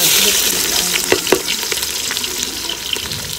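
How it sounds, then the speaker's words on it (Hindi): Onions dropped into hot ghee in a village kitchen fry with a loud, broad sizzle and hiss, with a few sharp stirring knocks near the start, steady and close with no voices. "घी गरम हो चुका है, इसमें प्याज ऐड हो रहे हैं।"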